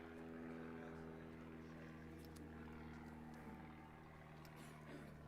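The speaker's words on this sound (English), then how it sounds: "Long dramatic pauses while airplanes go overhead." Propeller airplanes pass overhead during a Shabbat service, giving a low, steady droning hum that holds throughout, quite faint and distant, with nobody talking.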